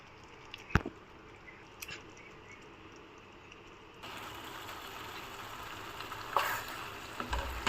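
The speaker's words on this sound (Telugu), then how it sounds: "ఇప్పుడు ఇందులోకి మనం ఫ్రై చేసుకున్న ఎగ్స్ వేసుకుందాము" Fried eggs drop into a simmering masala on a tawa for anda fry. A quiet pan with a few clicks gives way to a sudden, louder, steady sizzle that keeps going to the end.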